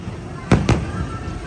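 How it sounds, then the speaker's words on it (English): Fireworks at the Magic Kingdom park go off as two sharp bursts in quick succession, fairly close and loud over a low background murmur. "Private viewing of the fireworks."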